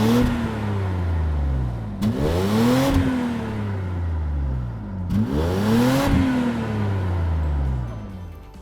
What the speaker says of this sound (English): the sound of the V12 engine, which starts as deep and powerful but becomes higher and vibrating when it reaches higher revs